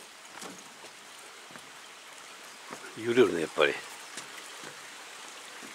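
A river flows about ten meters below a swaying suspension bridge, a faint, steady rushing hiss in the background while people talk and a few footsteps sound on the bridge.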